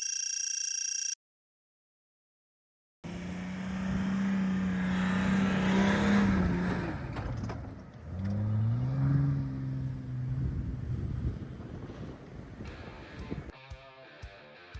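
A Nissan Patrol off-road vehicle stuck in sand on Fraser Island revs its engine in strained, rising and falling surges, loud and close, with its front wheels failing to drive.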